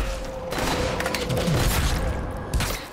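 A pesticide-spraying weapon fires in Drake Hollow, a dense, loud burst of rapid shots running continuously for a few seconds with game sound behind.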